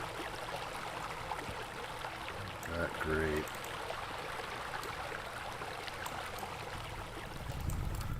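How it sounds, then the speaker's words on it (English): Water flows steadily in a backyard swimming pool design scene, a continuous soft rushing under brief talk. "I get stuck listening to like the water sound."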